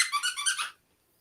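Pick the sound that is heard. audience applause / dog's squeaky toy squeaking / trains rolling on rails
dog's squeaky toy squeaking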